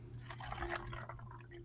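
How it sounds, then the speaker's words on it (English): About 30 milliliters of vinegar is poured into a container during a lab experiment, giving a short, soft liquid trickle with light drips over a steady low hum. No one speaks. "So you pour it into the container."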